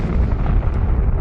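A supernova explosion sound effect, a loud, deep, sustained roaring rumble that holds steady without a sharp attack.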